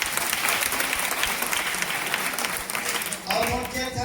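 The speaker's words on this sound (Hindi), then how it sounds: "चलिए इसके लिए भी ताली बजाओ" Children clapping together in a group at a gathering with a former CRPF DIG, a dense burst of close applause with an adult voice briefly heard near the end.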